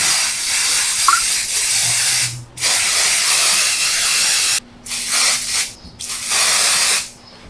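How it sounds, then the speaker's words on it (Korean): Hair spray hisses out of a can in several long, close bursts separated by short pauses, with no talking. "스프레이."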